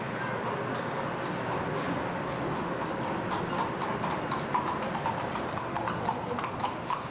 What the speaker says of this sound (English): Apparently a horse-drawn cab that one can rent in Bern